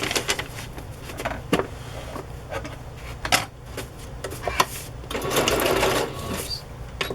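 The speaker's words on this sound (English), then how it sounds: "I'm going to sew this side first." A sewing machine stitches chiffon and tulle ruffles in quick, uneven runs of close mechanical whirring and clatter, with sharp clicks and brief pauses between bursts.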